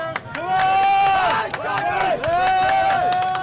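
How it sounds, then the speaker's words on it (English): Rugby crowd in a Cyprus versus Bahrain match cheering and shouting to urge on the Cyprus team, a loud sustained roar of many voices with whistles and bursts of yelling close around. "CYPRUS crowd getting up for this now, urging on their team."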